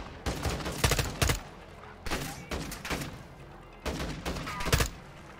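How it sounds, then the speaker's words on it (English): Rapid bursts of video-game gunfire from Call of Duty MW2, loud clustered volleys separated by short pauses, with one shooter firing up through the ground and some muffled thuds. "This guy literally shooting at me through the ground."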